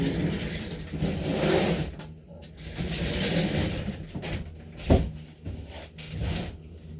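An FCX24 RC crawler car on a test run: a motor whirs, rising and falling in waves, with a sharp clack from a bump or knock partway through.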